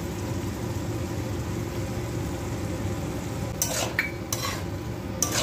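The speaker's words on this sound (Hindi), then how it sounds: "सब्जी को भून लेते हैं तेज आंच करके" Mixed potato, capsicum, pea and carrot sabzi fries over high heat with a constant close sizzle, while a spoon scrapes and clinks against the pan in a few quick strokes toward the end.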